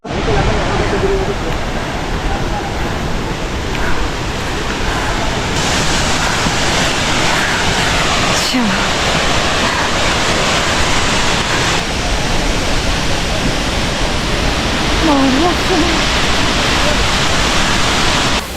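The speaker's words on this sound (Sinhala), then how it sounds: "ළමයි මේ තමයි ලංකාවේ ලස්සනම දියැල්ල." Bomburu Ella waterfall in Sri Lanka pours with a dense, unbroken roar of rushing water that stays loud and steady from start to finish.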